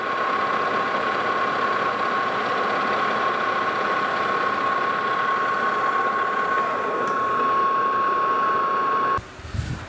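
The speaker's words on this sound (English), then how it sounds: "to finish it up, we'll put a light chamfer on this outside edge" A machine tool cuts a light chamfer on the outside edge of a dividing head index plate, a steady close mechanical hum with a sustained whine that continues evenly before cutting off near the end.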